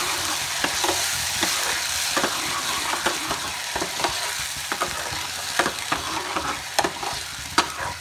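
Lobia (black-eyed peas) masala sizzles and fries steadily in a pan while a spoon stirs and scrapes through it in repeated sharp clinks, close and fairly loud, with no voices.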